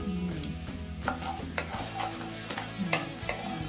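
Ingredients for Bangalore-style avarekalu chitranna fry in hot oil as a spoon scrapes and stirs the pan, giving a steady sizzle broken by repeated clinks and scrapes, close up.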